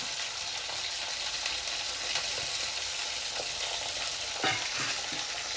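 Small onions frying in a pan while being stirred, a constant bright sizzle with occasional utensil scrapes, close and steady, no voices.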